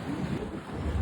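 Boat cruising on a river in China, with a steady low engine rumble and wind buffeting the microphone throughout, a short continuous stretch of moderate level with no voices.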